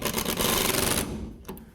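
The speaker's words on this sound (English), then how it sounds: "I'm going to set a screw in to hold it in place." A power driver sets a screw through a drywall patch during hole repair, giving a loud, close, continuous whir for about a second before stopping, with a short knock after.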